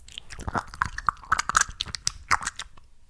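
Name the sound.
ASMR wet mouth sounds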